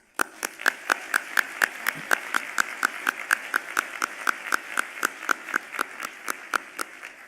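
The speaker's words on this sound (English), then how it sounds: "Let's have another round of applause for all of the winners." Claps ring out for the award winners at a charity awards luncheon. A steady, evenly timed run of crisp claps continues for several seconds over a soft room murmur.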